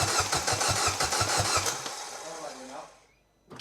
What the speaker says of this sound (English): That cranks over really well.